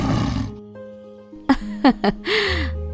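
An animated lion in a 3D moral cartoon roars in short, loud bursts, accompanied by swooping cartoon sound effects and a musical drone, after a stretch of narration.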